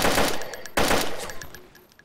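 Bursts of automatic gunfire in the survival game DayZ, set in the town of Berezino: two loud volleys of rapid shots a moment apart, each fading into echoing rattles and scattered distant cracks.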